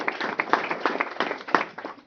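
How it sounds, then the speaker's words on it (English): A school board meeting audience gives a short round of clapping, individual claps distinct and uneven, moderately near and fairly quiet, with no talk over it. "we'll give her a round of applause anyway"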